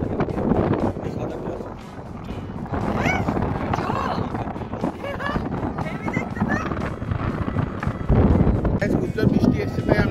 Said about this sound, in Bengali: হাওয়া কি বিশাল হাওয়া এখানে